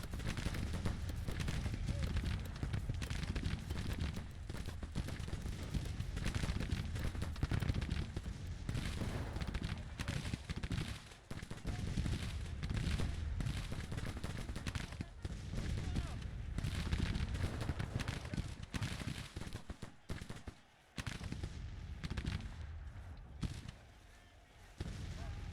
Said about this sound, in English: Go ahead and start shooting them, please.